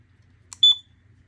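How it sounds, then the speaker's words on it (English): A loud electronic beep from a small device speaker on a rotating separator coil rig, a short click followed by one sharp, piercing tone that cuts off cleanly in an otherwise quiet room. "Very loud beep."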